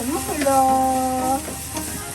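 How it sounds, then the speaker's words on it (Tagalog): A pot of chicken bubbles and sizzles steadily on the stove while a voice speaks briefly over it, with a faint clatter in the background. "Ito, kumukulo pa lang siya guys. Kumukulo."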